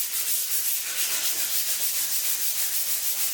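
Chalk-painted furniture edges being sanded by hand in quick, steady back-and-forth strokes, close up, a dry rasping hiss with no voices.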